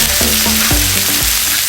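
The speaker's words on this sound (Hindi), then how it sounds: "यहाँ सबसे पहले शामिल करेंगे अपना बॉईल किया हुआ मटन" Boiled mutton sizzles and fries in hot oil in a karahi, a loud, steady crackling hiss with a few stirring scrapes, close up and alone without talk.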